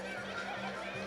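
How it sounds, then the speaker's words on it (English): A big sorrel horse at the 2016 Quesnel Billy Barker Days Rodeo final barrel race gives a brief, fairly faint whinny against a steady arena background. "this big sorrel horse, he's been around the barrels a time or two as well"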